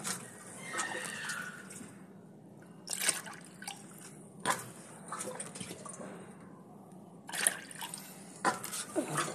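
Water is scooped out of a small backyard pond-style waterfall feature and tossed, giving several splashy dips and pours between steady trickling, with a brief voice partway through.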